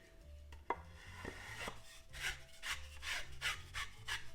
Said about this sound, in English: I might have to give the dowel a light sanding.